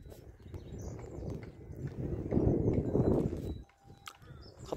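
Horses at a mountain camp on the Khaptad plateau give off a loose, irregular clatter of hooves and shuffling at moderate distance, swelling briefly louder midway, with faint voices in the background.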